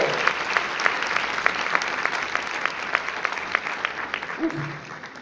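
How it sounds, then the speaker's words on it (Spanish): A church congregation claps hands during a sermon, a sustained, fairly loud round of many clapping hands with some sharp individual claps, and a voice briefly emerging near the end. "Dale fuerte tus palmas a Jesús si lo estás recibiendo."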